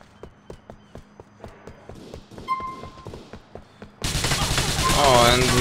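Gunfire in the video game GTA IV: a rapid string of sharp, evenly spaced shots for about four seconds, then a sudden loud burst of dense, crackling noise with a voice underneath.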